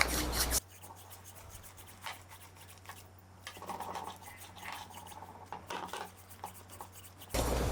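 Cooked dal is worked with a wooden churner, giving soft, close rubbing and scraping strokes in an uneven rhythm. A low steady hum runs underneath, and no one speaks.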